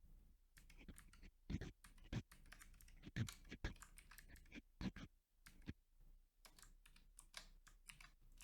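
Typing on a computer keyboard while coding, a close run of irregular clicking keystrokes with some louder taps, no voice.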